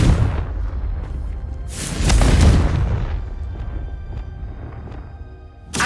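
Confringo fire spell blasting in Hogwarts Legacy, a loud booming explosion with a rumbling burst and crackling debris that tails off, then a second sharp onset at the very end.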